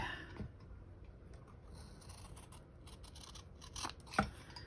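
Scissors snipping around a piece of fabric while making fabric farm tags, quiet close cutting sounds with soft scraping, ending in a couple of sharper snips.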